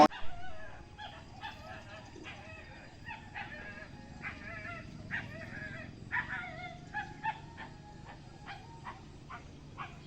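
A dog gives a series of short, yelping barks and whimpers at a moderate distance, repeating in irregular bursts over faint background noise.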